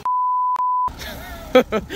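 Two loud, steady electronic beep tones, the first long and the second shorter, ring alone before a clattering background of movement and faint voices takes over.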